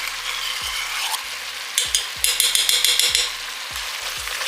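Tomato paste being stirred into sweated vegetables in a pot, a spoon knocking the pot in repeated dull thumps over a sizzling cook, with a brief burst of scraping in the middle.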